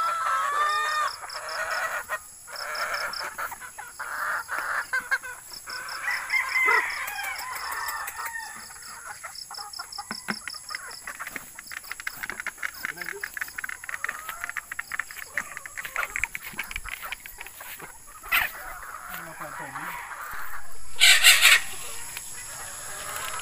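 Four-month-old chickens, Beatles White breed, at a small-time breeder's yard, crowing repeatedly with overlapping calls and clucks, mostly near and moderately loud, with a burst of louder crowing near the end.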